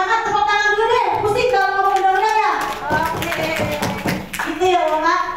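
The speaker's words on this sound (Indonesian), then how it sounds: "biar makin semangat tepuk tangan dulu deh" Audience clapping at a village socialization meeting about legislation, with rhythmic hand claps running through the stretch under voices singing or chanting.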